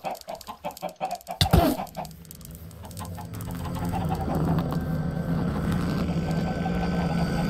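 Minecraft chickens clucking in a game soundtrack, a few sharp cluck bursts early on followed by a steadier, louder bed of in-game ambience and low hum.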